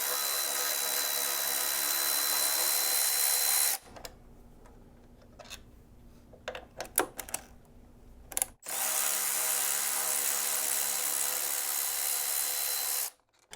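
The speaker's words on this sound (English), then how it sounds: "So just remove these 2 bolts first." A power driver with a Torx T30 bit removes two bolts from the rear brake master cylinder guard of a KTM 790/890 Adventure. Two long, loud, steady whirring runs are separated by a quieter stretch of small ratcheting clicks and taps.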